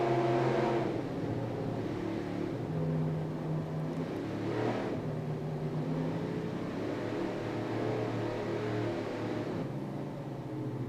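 Racing powerboat engines at the 2002 APBA World Championships, a steady loud motor drone with harmonic whine, swelling briefly near the middle and holding throughout, with no talk over it.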